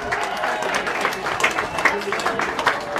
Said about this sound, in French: Et on peut encore applaudir bien fort le podium de la catégorie 11.